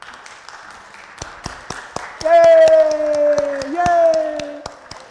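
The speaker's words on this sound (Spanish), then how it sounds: "Vamos a dar un aplauso" A church congregation in a Lutheran service claps together, sharp irregular claps scattered throughout, followed by a loud cheering vocal shout and a sustained high voice over the clapping.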